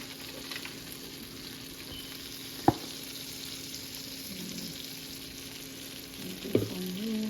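Onion frying in butter in a pan gives a steady, moderate hiss under a faint constant hum, broken by a sharp clack near the middle and a couple of utensil knocks toward the end.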